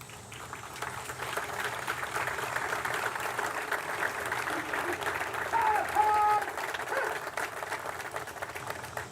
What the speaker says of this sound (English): another round of applause for this Montford Point Marine